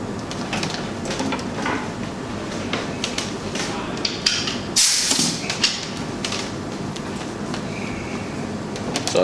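A compressor-powered pneumatic cylinder extends and retracts on a training rig, giving soft mechanical clunks and a short sharp hiss of released air over a steady background hum.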